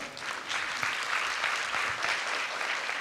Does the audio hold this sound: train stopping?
no